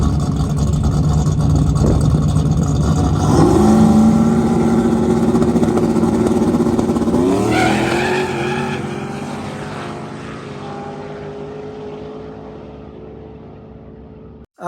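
A fast single-turbo drag racing car launches down the strip, its loud engine roaring steadily and rising in pitch before fading into the distance.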